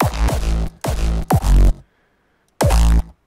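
Several synthesized kick drum samples made in FL Studio, deep booming hits with a sharp attack and falling pitch, played one after another with short silent gaps between them.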